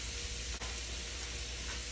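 Steady hissing and bubbling noise, like a pot of water at a rolling boil for cooking noodles, continuous and fairly quiet with no talking.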